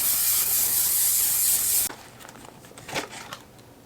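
Hair spray hisses loudly and continuously from an aerosol can for about two seconds, then stops, followed by faint rustling and handling noises.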